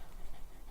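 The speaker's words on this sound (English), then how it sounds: "that's my dog that you can hear panting if you can hear that." A dog pants softly in the background, a steady, faint breathy rhythm against room noise, with no talking over it.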